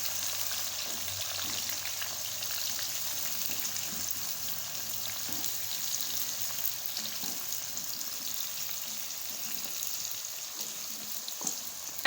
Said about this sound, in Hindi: अब हम इसमें जो है प्याज को भी ऐड कर देंगे ताकि प्याज भी जो है वो ब्राउन हो जाए